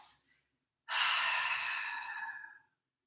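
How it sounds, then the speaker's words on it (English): A deep exhale out through the mouth during a basic yoga flow, one long breathy sigh lasting nearly two seconds, close and soft, after a brief earlier breath sound. "Take a big exhale out through your mouth."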